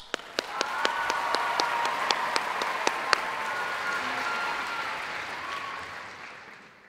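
Audience clapping at a choral gala concert, with a few sharp individual claps at first that swell into sustained applause and then fade out.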